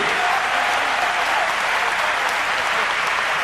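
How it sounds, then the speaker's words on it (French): A crowd at a boxing match between Orlando Canizales and Fernando Ramos applauds steadily, a dense, even wash of clapping that keeps the same loudness throughout. "Une phase d'applaudissements, merci pour lui"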